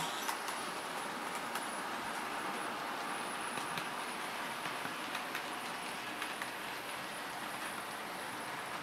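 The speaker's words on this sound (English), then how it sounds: "It's a class 37. Quite a nice loco." A Hornby class 37 model locomotive runs on a DCC layout, giving a steady, faint whirring rumble with light rhythmic clicks of wheels over track joints, continuous and alone without talk.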